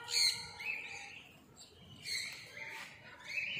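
Plum-headed parakeets in a walk-in zoo aviary give sharp, high chirping calls in short bursts, fairly faint and at middle distance, with quiet pauses between the calls.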